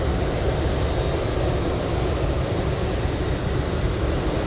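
An MD-80 airliner flies near Anchorage airport, its steady, loud broadband engine roar filling the air without a break.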